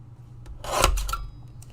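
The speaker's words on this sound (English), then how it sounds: "that's the perfect sentiment cut, right? Just using this little trimmer" A small paper trimmer slices a card sentiment strip in one short rasping pass that swells and fades, close by and alone.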